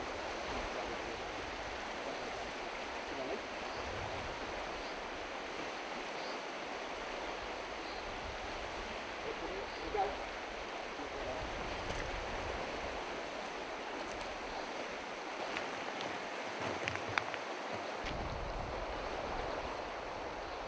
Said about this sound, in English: Today's location is a fairly small open stream that is coming down from a significant fresh.